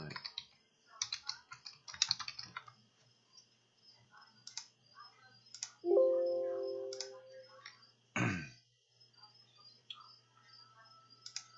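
A computer keyboard gives faint, scattered bursts of clicks in a quiet room, broken by a brief tonal sound and a short scrape.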